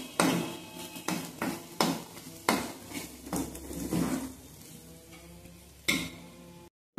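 Green chillies frying in a pan with a spatula, loud repeated clatters and scrapes against the metal over a steady low sizzle, spaced about every second, no talking.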